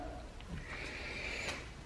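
A horse whinnies outdoors at a distance, a faint, wavering high call rising over quiet background noise, with a few soft thuds.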